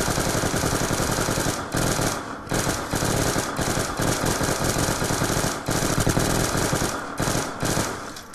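Rapid automatic gunfire in the video game Black Ops 2 Zombies, loud and nearly continuous with dense rattling bursts and only brief gaps between volleys.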